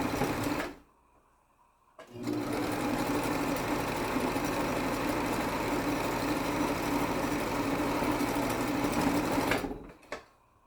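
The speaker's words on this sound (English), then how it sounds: "We're going to go ahead and backstitch that as well." Sewing machine backstitching a seam in woven cotton fabric: a brief whir, a short pause, then a long steady run of fast mechanical stitching close by that stops abruptly near the end.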